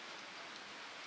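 Rain falls in a faint, even hiss, with no break or change in intensity.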